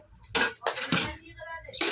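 A lid goes onto a cooking pot of egg curry with a few bright metallic clinks and clatters close by, spread over about two seconds, with faint background voices.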